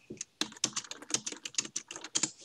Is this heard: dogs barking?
no